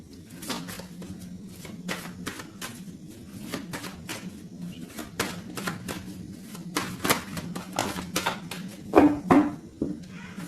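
Tarot cards being cut and shuffled in repeated quick riffles and slaps, close and fairly loud, with a steady low hum underneath.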